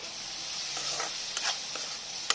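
Fish pieces in a pan with salt and turmeric, stirred briefly: a faint sizzle under a few soft scraping strokes and a final light tap, close and quiet.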